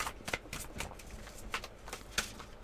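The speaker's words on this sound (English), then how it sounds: "You'd think I've never shuffled a deck of cards before." A deck of tarot cards is shuffled by hand, giving several quick papery riffles and soft slaps at an uneven rhythm, close and fairly quiet, with no talking.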